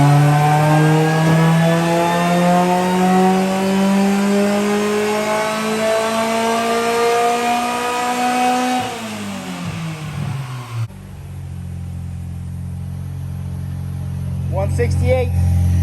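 A supercharged Honda Prelude engine revs loud and close into VTEC, its pitch sweeping steadily upward for several seconds before it abruptly drops off to a lower idle hum and then gradually swells again.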